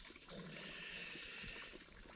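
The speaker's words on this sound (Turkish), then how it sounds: "Bir de yanımdaki çeşmenin sesi var." A mountain fountain among fir trees on Uludağ runs with a soft, steady trickle of water, close by but faint in an otherwise quiet setting.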